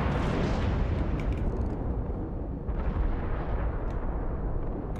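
Iowa battleship main guns firing in the naval game World of Warships, heavy booming blasts with a dense rumbling low tail that rolls on for several seconds, alone without talk.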